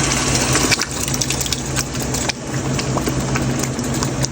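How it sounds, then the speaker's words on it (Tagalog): Water from a tap gushes into a marinara sauce bottle to rinse out the last of the sauce for spaghetti and meatballs, a loud, close, steady stream with brief knocks and a short break partway. "Tapos lalagyan ko ng tubig itong bote para makuha lahat yung sauce."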